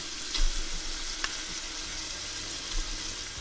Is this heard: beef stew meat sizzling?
yes